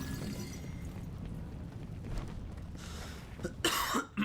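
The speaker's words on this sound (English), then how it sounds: "Just a little bit of cough." A person coughs loudly and close near the end, with a couple of abrupt bursts over a low, rumbling backdrop of video game sound.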